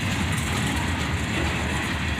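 A long freight train rolls past on the rails, a dense steady roar of wheels and cars close by, without pause.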